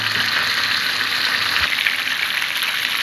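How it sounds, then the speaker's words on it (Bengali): Steady crackling sizzle of tilapia frying in hot oil, continuous and close, with no voices. "মাছগুলো আমার অলমোস্ট ভাজা হয়ে এসেছে। এইভাবে আমি মাছগুলোকে একদম লাল লাল করে ভেজে নেব।"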